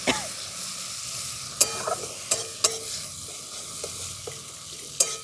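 Rohu fish is sautéed with poppy seed paste, a little water and green chili, giving a soft sizzle under repeated scraping stirs and sharp spatula clicks against the pan.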